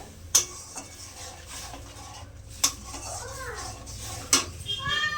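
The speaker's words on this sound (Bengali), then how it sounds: "একটু চিনি দিলাম, ভালো করে কষিয়ে নেব।" Cauliflower seasoned with turmeric, salt and a little sugar being sautéed in a pan, three sharp metallic clinks of a spatula against the pan standing out over a low, faint background hiss.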